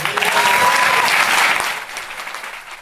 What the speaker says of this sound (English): Loud applause there